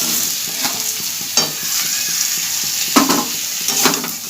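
Pointed gourd and rice fry in spices in a hot pan with a steady sizzle, a few scraping stirs of a spatula breaking through the crackle.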